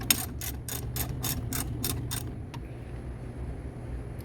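A ratchet working hose clamps loose on the filler neck hoses of a Jeep Comanche fuel tank, eight quick evenly spaced clicking bursts up close, then a single click and quiet workshop hum.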